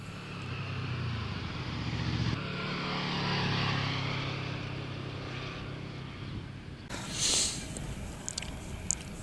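A 2014 Honda VFR 800F motorcycle engine revs with a low, droning rumble that rises and falls, then a brighter burst near the end as the airbox opens toward 8000 rpm, heard alone without talk.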